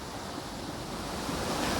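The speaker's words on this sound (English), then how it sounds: "love it when it has such a heavy flow like this. Just a beautiful, beautiful waterfall" A roadside waterfall swollen with heavy flood flow roars in a dense, steady broadband rush, loud and close throughout, with no voices.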